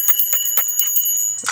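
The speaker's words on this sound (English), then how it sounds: "Let me get a bell." A small bell rings in quick repeated strikes, bright metallic dings with a sustained high ring, loud and close, ending with a final clang.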